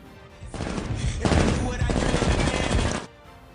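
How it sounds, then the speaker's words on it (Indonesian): Gunfire rings out in a film scene where Deadshot's marksmanship is being tested: a loud, sustained burst of rapid automatic shots lasting a couple of seconds, with dense overlapping cracks and rumble, then it cuts off. "Mereka juga menguji kemampuan menembak si Deadshot dan membuat si Amanda terkesan."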